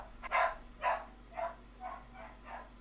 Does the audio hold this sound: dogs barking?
yes